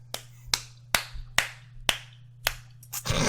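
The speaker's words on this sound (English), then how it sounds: "that was me applauding for those of you who weren't aware" A single person claps slowly in a small room, about seven distinct sharp hand claps in an uneven rhythm, close and fairly loud, with a low steady hum underneath.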